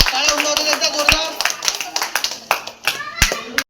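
Applause from guests at a Home Minister housing-society game event comes as brisk, uneven claps, near and fairly loud, with children's voices chattering over them before they stop abruptly.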